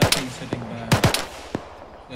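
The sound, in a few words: gunfire in video game Arma 3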